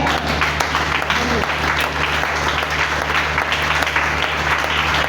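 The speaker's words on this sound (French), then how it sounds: "Acclame cette parole." A church congregation at a Thursday worship service applauds loudly and continuously, a dense wash of clapping filling the room close by for the whole stretch.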